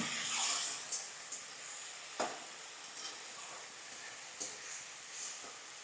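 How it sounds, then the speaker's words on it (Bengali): Ground coriander and cumin fry in a pan for a Bengali fish-head muri ghonto, giving a soft, close hiss. Sharp spatula scrapes and clicks come at irregular moments, and nobody speaks. "মশলাটাকে ভালো করে এরকমভাবে ভাজতে হবে।"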